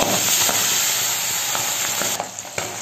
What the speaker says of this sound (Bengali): তেল গরম হয়ে গেছে, আমি এখন এক এক করে মাছগুলো দিয়ে দেব।